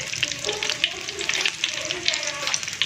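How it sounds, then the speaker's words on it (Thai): A fish and banana blossom cake deep-frying in hot oil, giving a continuous bubbling sizzle with crackly pops, close and fairly loud, with no talk over it. "เราทำหนึ่งชิ้นก่อนทอดก่อนดูก่อนนะว่ามันจะเป็นยังไง"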